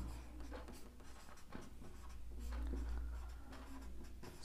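Soft pen strokes writing out the solution to a Class 10 pair of linear equations, faint and close against a steady low hum. The scratching comes in brief intermittent bursts.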